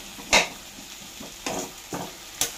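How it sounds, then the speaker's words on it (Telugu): Small pieces of jaggery fry and melt in a hot pan, heard as a few separate scraping stir strokes with faint sizzling beneath, spaced unevenly and fairly close. "కొంచెం బెల్లం అలా వేగిపోతూ కరిగిపోతుందండి"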